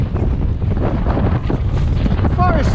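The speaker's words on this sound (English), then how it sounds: "it's so windy" Strong wind roars and buffets the microphone throughout, a loud rumbling gust with no break.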